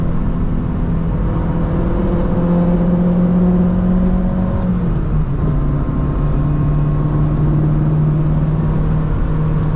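Renault Megane Coupe accelerating on the road from inside the cabin, a loud steady engine drone rising in pitch, dipping briefly at a gear change, then climbing again under constant road and wind noise.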